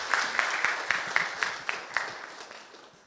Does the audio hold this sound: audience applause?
yes